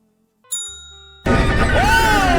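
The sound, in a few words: service bell rung in a video game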